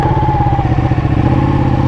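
A Ducati motorcycle engine runs loud and close, a steady throaty rumble with a rhythmic pulse as the bike pulls away.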